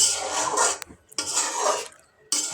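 A lid goes onto a pot of small baim (eel) fish bhuna simmering with a little water, giving short metallic clatters and scraping in two bursts with a brief gap, near and fairly loud with no talking.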